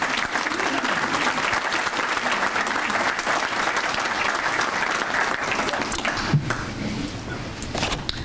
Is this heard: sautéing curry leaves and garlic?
no